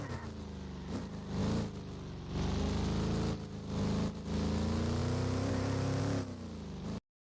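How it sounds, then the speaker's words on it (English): Engine of a car driving beside a huge frozen lake in the Roblox game ERLC, a loud, steady drone with a few surges and dips over about seven seconds, heard alone. "because you probably couldn't hear me over my engine"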